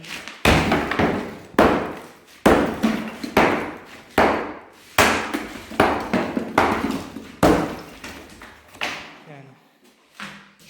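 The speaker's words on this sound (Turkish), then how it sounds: "Şunları vuracağım, dağıtacağım. Yani şöyle şöyle vuruyorum arkadaşlar." Stones and debris are struck and broken up in a steady run of about a dozen loud, close thuds and cracks, each fading quickly before the next hit.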